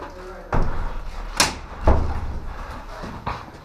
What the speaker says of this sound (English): Close the door for me.